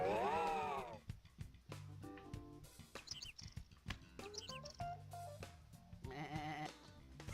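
Sheep from the video game Sheep Raider bleating, a loud wavering bleat at the start and another near the end, with plinking game music and chirpy effects in between.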